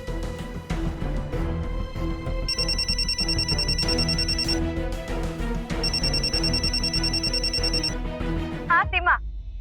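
Telephone rings with repeated incoming calls, sounding in regular electronic bursts over background music, followed by a short swooping tone at the end.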